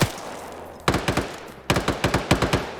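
Automatic gunfire in a video game as a player empties a magazine: two rapid bursts of loud, close shots, a short one followed by a longer one, with no talking over them.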